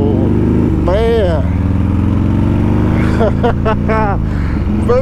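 A motorcycle engine droning steadily during a ride, a loud close hum with rising and falling pitch as it revs, with a person talking over it.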